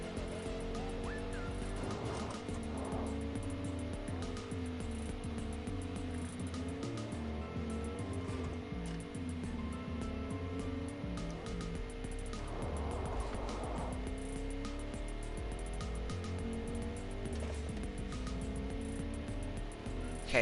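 Engine of a truck driving over dirt roads in a video game, a steady droning hum with shifting pitch as it revs and changes gear, loud and continuous throughout, with music-like tonal lines running alongside.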